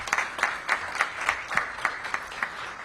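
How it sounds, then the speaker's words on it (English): Applause for the hosts at a Washington Gas business event, a small crowd clapping in a fairly even rhythm, close and steady for a few seconds. "Give them a round of applause for hosting us."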